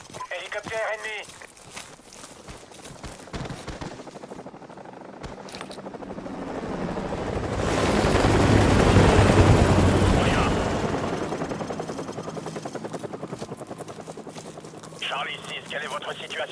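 An enemy helicopter's roar swells up to a loud peak and fades again in Call of Duty 4: Modern Warfare Remastered, with a voice speaking briefly before and after amid game-like effects.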